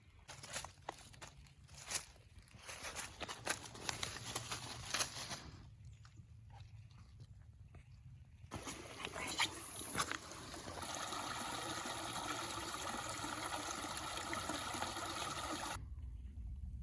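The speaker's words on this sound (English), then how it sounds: "It's definitely raining now" Rain falls in a forest during a camping trip, a soft, steady patter and trickle of drops throughout, with a brief quieter stretch before the pattering resumes.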